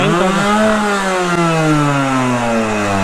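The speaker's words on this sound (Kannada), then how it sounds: "ಬನ್ನಿ ದಿ ಬಾಸ್ ಅವರ ಎಕ್ಸಾಸ್ಟ್ ನೋಟ್ ಹೆಂಗಿದೆ ಕೇಳಿಸ್ಕೊಳ್ಳೋಣ" A Yamaha RXZ two-stroke 6-speed motorcycle revs hard through its exhaust, a loud, buzzing, rising engine note held steadily at high RPM, alone without talk.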